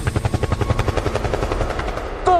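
Helicopter sound effect in a forró band promo, rapid rhythmic rotor thumping chopping steadily up close, ending with a brief higher burst.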